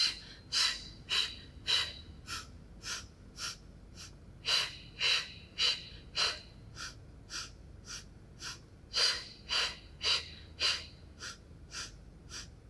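Forceful rhythmic breathing during a Pilates mat workout, with about twenty sharp, close breath bursts in short pairs and runs of exhales and inhales, with no talking.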